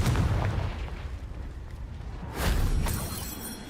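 In the Hogwarts Legacy video game, a Confringo spell sets off loud, booming explosions: a heavy blast at the start, a rumbling roar, then a second explosive burst partway through.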